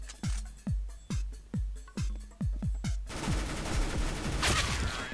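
Gunfire in the video game CS:GO during a competitive match: about nine sharp, loud single shots in an irregular rhythm, then a denser, noisier burst of rapid firing and clatter near the end.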